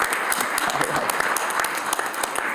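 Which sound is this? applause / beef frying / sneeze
applause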